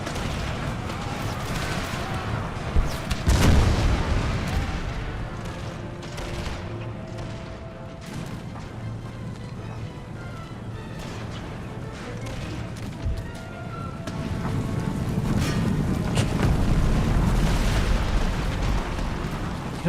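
Artillery guns fire in a battle in Empire: Total War, booming shots and crackling volleys ringing through a dense, continuous roar of combat, with a heavy burst early and a thicker rumble near the end.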